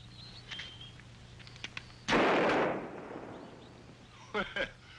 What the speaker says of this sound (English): It was a good shot, Mr. Vale.